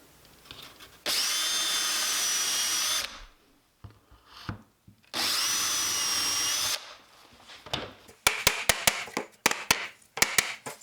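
A power drill whines in two sustained bursts of about two seconds each, drilling shelf pin holes through a jig used as a drill guide, followed by a series of sharp wooden clicks and knocks.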